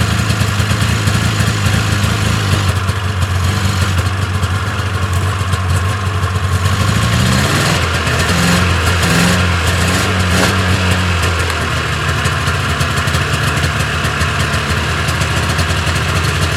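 A motorcycle engine idles steadily as it warms up after starting, a loud, close, continuous rumble that shifts pitch briefly midway before settling back.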